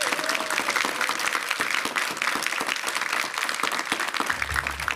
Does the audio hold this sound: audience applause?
yes